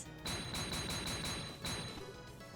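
A rapid burst of repeated percussive strikes from the 8-leaf Blitz attack in Trails in the Sky SC, loud and dense, with ringing metallic hits pulsing in quick succession over a couple of seconds.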